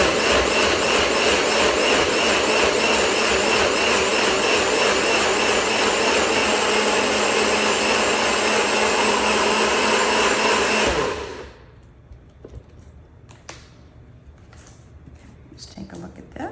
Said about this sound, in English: So we will blend it in the bullet here.